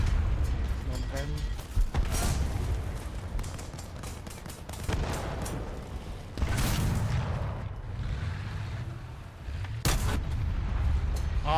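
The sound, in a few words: tank cannon shots in War Thunder video game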